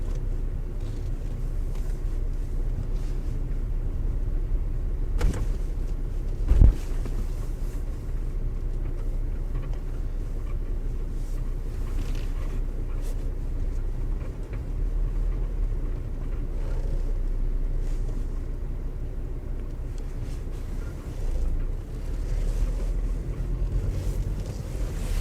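Car interior drone of a drive from Appledore to Rye, a steady low rumble with light wind noise and one brief thump partway through as the car slows to pull in and park.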